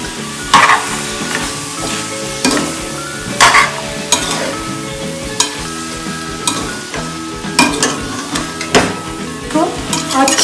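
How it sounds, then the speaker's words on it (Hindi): Pumpkin sabzi with coconut paste sizzles in a pan while a spoon stirs and scrapes it, making repeated clattering strokes over a continuous frying hiss. "अच्छी तरह इसको स्टर करना चाहिए।"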